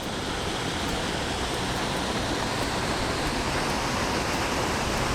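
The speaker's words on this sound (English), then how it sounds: "This is a pretty waterfall over here" A waterfall on the Whanganui River in New Zealand pours into the river with a steady, loud, unbroken rushing roar and no voices.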